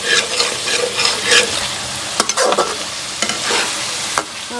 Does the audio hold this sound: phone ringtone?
no